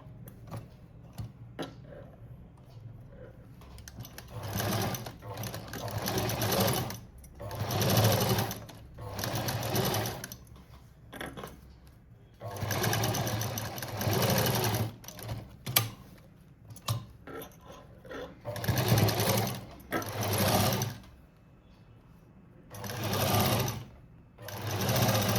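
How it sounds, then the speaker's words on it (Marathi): A sewing machine stitches a patchwork border cut from a saree, running in repeated bursts of rapid mechanical chattering separated by short pauses, close and clear. "इथं आपल्याला टिप मारून घ्यायची आता"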